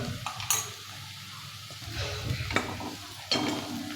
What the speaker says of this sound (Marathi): आता जे आपण हे वाटण बनवलेलं आहे ना खोबरं आलं लसूण कोथिंबीर त्याचं याच्यामध्ये वाटण आहे ना ते कढईमध्ये टाकून घेऊया